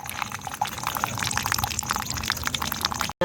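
Water is poured steadily into a homemade filter built to clean dirty water, a continuous close splashing and trickling flow that runs for about three seconds before stopping abruptly.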